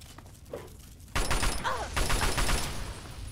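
An explosion goes off in Fallout 3 during a fight with fire ants: a sudden loud blast cuts in after a quiet stretch and then rumbles on as a crackling roar, with brief voice-like sounds under it.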